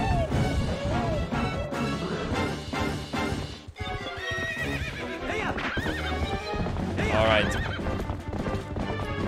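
A horse in The Legend of Zelda: Twilight Princess neighs loudly over a continuous rhythm of galloping hooves, with game music and a brief spoken word from a player mixed in.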